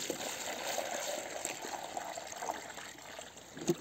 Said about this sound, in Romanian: Le punem apă.